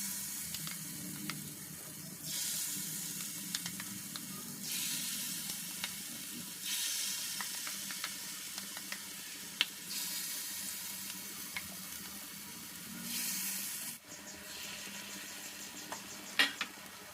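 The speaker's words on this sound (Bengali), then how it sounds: "এবারে কিন্তু আমি এক এক করে সবগুলো তেলের মধ্যে, গরম তেলের ওপরে দিয়ে দেবো।" Potato pakoras frying in hot oil, a steady bubbling sizzle that swells in stretches as the battered pieces go into the pan, with occasional clinks, and no talking.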